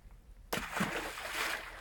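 A stone dropped from a bridge lands in cold river water with a sudden splash, followed by churning, trickling water that continues for over a second; close and moderately loud, with no talking.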